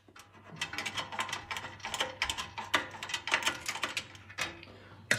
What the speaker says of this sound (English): So we're just gonna whiz those nuts off.